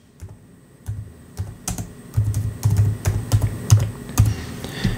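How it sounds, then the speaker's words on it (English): Fingers tap out a search on a computer keyboard, with clear close-up key clicks that start sparse and then come in a quick, steady run of typing. "The next thing you would do is go over to your search bar, bottom left, and type in Wi-Fi settings."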